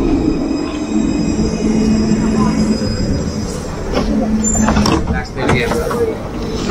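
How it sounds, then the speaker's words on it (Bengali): A Luas tram in Dublin runs at speed with a steady rail rumble, squealing wheels and tonal whines, recorded close by with faint voices. "দেখতে পাওয়া যাচ্ছে লুয়াসকে, খুব স্পিডে চলে ট্রামগুলো।"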